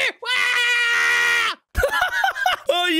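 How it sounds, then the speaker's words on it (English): A video game character screams loudly in a long, strained, wailing cry, then breaks into shorter choppy yelps and groans after a brief gap, close and harsh with no other talk. "he actually screamed like a little girl"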